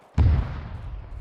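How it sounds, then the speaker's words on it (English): A single heavy gunshot or blast in a military video game strikes the squad, a sudden loud boom with a deep low-end thump that rolls off into a lingering rumbling tail. "Something just shot at us."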